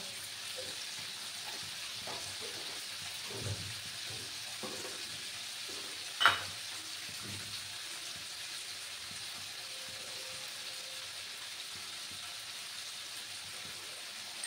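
Semolina upma with vegetables and salt being stirred in a pan, a quiet continuous sizzle with soft scraping stirs and one sharp clack midway.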